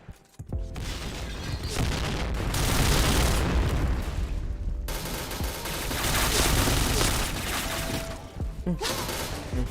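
A grenade goes off in a shooter video game amid heavy combat, with booming blasts and rapid gunfire piling up in loud, sustained waves and brief lulls between.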